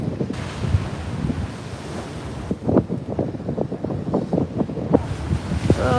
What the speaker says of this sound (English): let's just try and watch one of these backwash